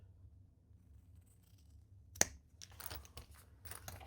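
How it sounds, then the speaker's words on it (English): Scissors trim the corners of a fabric liner for a zip-around travel wallet. After a near-silent stretch comes one sharp close snip, followed by several quicker crisp cuts and rustles of fabric. "Center your liner down here, and we're going to trim the corners"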